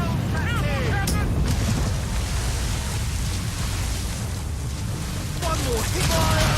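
Ship cannons firing in the naval combat of Assassin's Creed Rogue produce deep rumbling booms over a noisy, rain-like wash, while voices shout over the battle.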